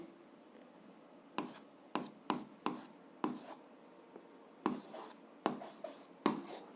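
Pen scratches on paper while an algebra solution is written out, giving a series of short, close scribbling strokes with brief pauses between them.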